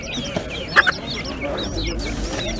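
Chickens cluck at a poultry market, with short close squawks and calls over a busy background murmur of other birds and faint voices.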